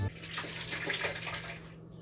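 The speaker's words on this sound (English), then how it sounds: "we're going to need to transfer that soup into this blender in batches so we can blend it up real good" Pumpkin and goat cheese soup is poured from a pot into a blender, a steady liquid splashing and glugging that runs continuously at moderate volume.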